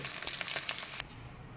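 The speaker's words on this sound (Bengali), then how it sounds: "বাকি মাছগুলোকেও এইভাবে ভেজে নেব" Bata fish frying in oil in a pan, a crackling sizzle with brief spitting pops that cuts off after about a second, leaving a faint low hiss.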